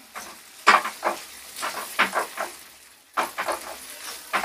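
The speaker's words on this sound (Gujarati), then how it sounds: "આ રીતના આપણે દબાવી લેવાનું ને એને ધીરા તાપે જ શેકવાનો છે" Mung dal sheero is pressed down and roasted in a pan over a low flame, giving soft intermittent scraping and stirring strokes with a faint sizzle and no talk.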